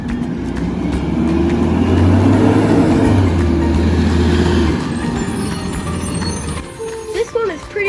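A city of Phoenix blue garbage truck hoists an overflowing bin and dumps it, with a loud steady engine roar and hydraulic whine that drops away, then a clatter at the end, while a person talks over it.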